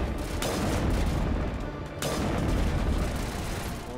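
Gunfire erupts in the Mass Effect video game as a dense, loud barrage of overlapping shots and booms, continuing for several seconds with a brief dip midway and no talking.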